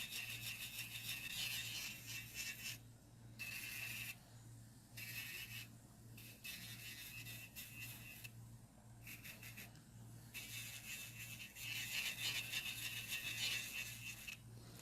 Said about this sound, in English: remove the shine off the natural nail plate and buff the skin out